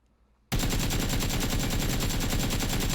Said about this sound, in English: if I were to throw a 6x on my AK and do it